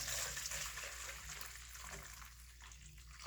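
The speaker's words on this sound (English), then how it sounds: "I just happen to have this metal bowl. Pour in your water." Water poured into a metal bowl, a steady close stream that splashes and trickles over a low background hum.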